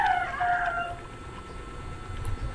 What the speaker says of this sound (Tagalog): Tilaok ng manok ang aking naririnig.